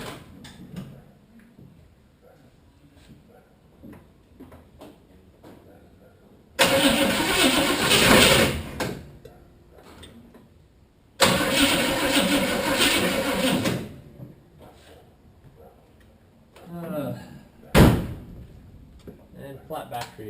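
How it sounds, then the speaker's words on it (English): A Holden Monaro with a flat battery cranks without starting, giving two long grinding bursts of several seconds each and then a short final attempt, with talk and quiet handling in between. "And flat battery again, by sounds."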